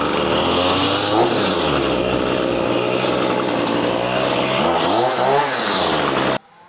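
A Husqvarna 525LST two-stroke line trimmer runs close and loud after starting, its engine buzzing steadily with two revving surges before cutting off abruptly at the end.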